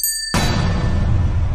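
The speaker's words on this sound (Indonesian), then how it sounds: "Saat mencoba lonceng, Gege mendapatkan instrumen ting dan itu kurang cocok karena terkesan horor" A single bright ding struck after a short quiet lead-in, tried as a bell sound, then ringing on with a long, full decay that stays loud to the end.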